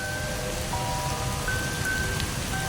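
Steady rain falls at night over a garden near a graveyard in a bamboo grove, a constant close hiss with no voices and a few faint tonal whines underneath.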